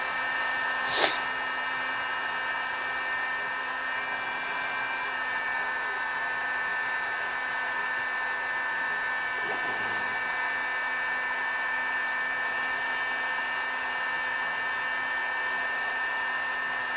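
Heat gun blowing hot air onto a bumper sticker on an F-150, a steady, faint whooshing hum that runs unbroken from start to finish, with a brief click near the start.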